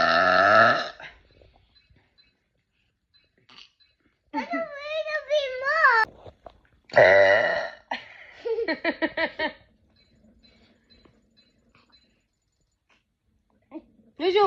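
Loud burps come in short bursts among children's chatter and high voices, with quiet gaps between them.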